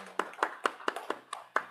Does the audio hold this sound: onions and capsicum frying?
no